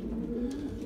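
A tired racing pigeon, home after five days on the road from a 200-mile race, gives a soft, low coo, faint and close, over quiet room noise.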